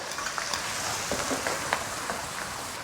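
Sichuan doubanjiang, ginger, scallion and garlic frying in a little oil in a wok, a steady close hiss with scattered crackles and light spatula taps.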